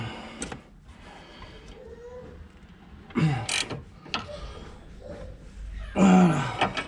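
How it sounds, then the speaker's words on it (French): Bolt on the steering rack of a Renault Megane 2 being tightened, several separate bursts of ratcheting mechanical clicks between quieter pauses, close and fairly loud, with no voices. "tu viens donc serrer. Le boulon de part et d'autre."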